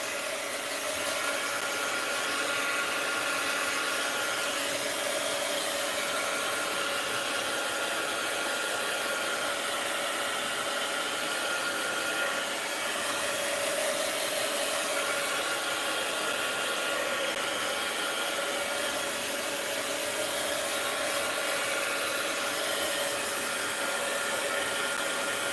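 A handheld dryer blows steadily to dry paint on a mixed-media art page, making a continuous, fairly loud whirring hiss with no pauses or talk.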